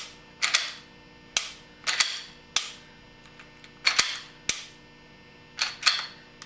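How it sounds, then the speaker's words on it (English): A pistol slide is worked by hand after reinstalling the slide assembly with a machined Apex hard sear, giving eight sharp metallic clacks in pairs and singles, close and distinct, with no talk. "Work the action a few times."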